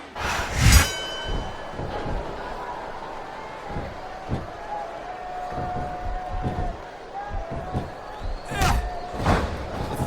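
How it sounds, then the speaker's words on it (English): Arena crowd noise from the WWE SmackDown vs Raw 2007 video game during a No Way Out 2006 pay-per-view match, a steady roar with swells and sharp thuds of slams, under a commentator's voice. "This capacity crowd is making their opinions known tonight."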